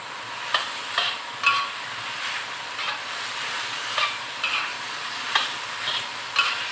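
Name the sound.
frying and stirring chicken hotdog for spaghetti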